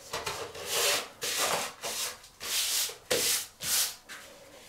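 Non-woven patterned wallpaper being pressed and smoothed onto a window reveal, several close rhythmic rubbing and scraping strokes with short pauses between them.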